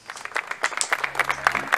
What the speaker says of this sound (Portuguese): Lelê e Lili aplaudem.